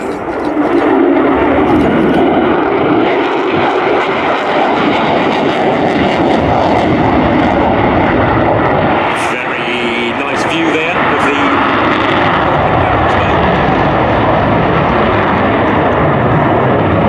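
F-35B Lightning II jet performing a flying display at RIAT 2024, a loud continuous roaring engine rumble that swells and shifts over the whole stretch, with a commentator talking over it.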